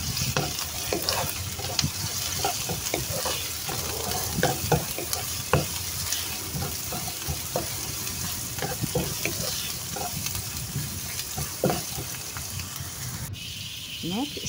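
Garlic hits a pan of frying onions for a coconut-milk fish dish, giving a constant, close sizzle with frequent crackles and stirring scrapes.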